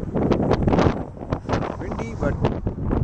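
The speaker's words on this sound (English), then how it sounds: "Wind is blowing." Gusty wind buffeting the microphone at a Yosemite vista point off Highway 120 East, a steady low roar with people talking over it.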